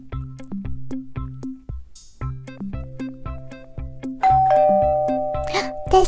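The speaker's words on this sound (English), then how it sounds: "There's the doorbell" A toy musical doorbell from a LOL doll play scene chimes a sequence of clear tones over a bouncy tune, followed by a brighter sustained ringing note near the end.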